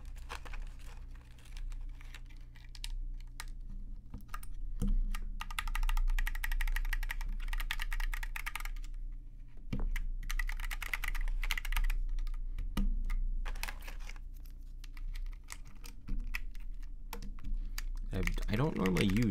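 Keycaps are pressed onto a Planck V6 mechanical keyboard with Silk Black switches, giving steady irregular clicks and plastic snaps over a low background hum, with occasional sharper knocks throughout.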